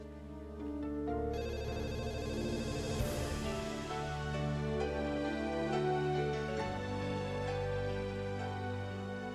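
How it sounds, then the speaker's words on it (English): A telephone rings in a soap-opera scene, its tone sustained over dramatic background music with no one speaking. "No, don't answer the phone. Don't answer the phone."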